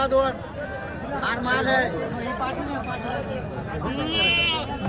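Osmanabadi goats bleat at a crowded goat market in Purna, Parbhani district, with several wavering cries rising near and far over steady chatter and people talking.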